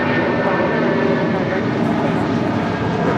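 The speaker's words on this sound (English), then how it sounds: "This is United Airlines Flight 1017 taking off to Newark on a 757-200." A United Airlines Boeing 757-200 thunders down the runway on takeoff at LAX, a loud, dense, unbroken engine roar close by, with faint voices beneath it.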